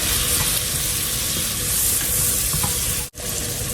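Three tablespoons of butter melt in a large heavy-bottom pot, giving a loud, continuous sizzle with one very brief dropout.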